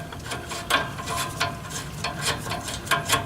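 A 12mm bolt being ratcheted off the ABS bracket on a Toyota 4Runner during a brake pad job, giving steady rapid ratchet clicks close up without speech.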